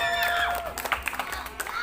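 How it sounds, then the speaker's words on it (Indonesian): Audience at a school quiz competition for third-grade Islamic religious school pupils applauds three teams, scattered claps rising under excited voices and children's shouts, with a tonal whistle or squeal early on. "marilah kita kasih tepuk tangan sebelumnya untuk ketiga regu ini"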